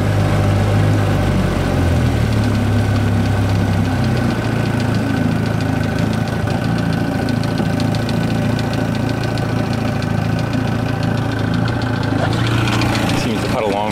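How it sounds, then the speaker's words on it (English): A Chris Craft boat's engine idles steadily and loudly, with a continuous low rumble and an even putt for the whole stretch, close up, with no other sound over it. "We'll lock her back down to idle."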